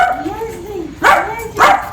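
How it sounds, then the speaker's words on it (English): A dog reunited with its grown offspring gives sharp yelping barks and whimpers, two loud bursts near 1 and 1.6 seconds over a thin whining undertone, close to the listener. "I'm gonna put Lana with her dog. We're gonna record their reaction. Just the dog"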